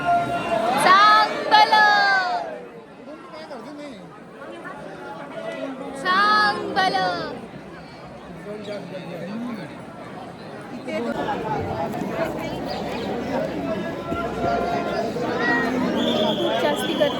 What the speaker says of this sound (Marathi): खूप जास्ती गर्दी झालेली आहे